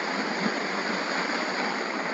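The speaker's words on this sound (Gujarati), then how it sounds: "આ તો નાના ઓલા છે ખાલી ને આ પાણીનો પરવાહ છે." A rain-swollen stream in flood rushes past close by, a steady, loud broadband roar of flowing water with no pauses and no voices.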